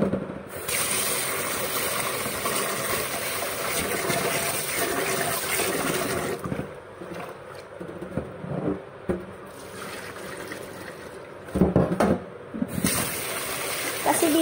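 Rice being washed under running water in a kitchen: a steady rushing stream with rattling, clicking grains, then choppier splashing and handling toward the end, with no speech.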